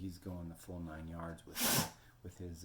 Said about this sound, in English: Gesundheit doggy.